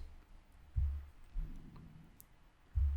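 A computer mouse clicks quietly three times at uneven intervals, each click a soft, dull tap against a faint, steady background.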